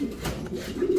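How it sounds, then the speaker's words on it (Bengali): A high-priced show pigeon of a Pakistani fancy breed coos close by in a low, rolling throaty burble, steady through the moment with no voices. "একেবারে হাই প্রাইজের কবুতর"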